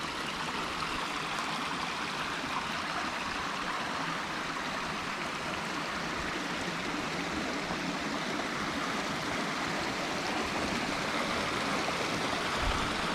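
A river rushes steadily through the Cumbrian Lake District countryside, a broad continuous wash of flowing water that stays close and even from start to finish, with no voices over it.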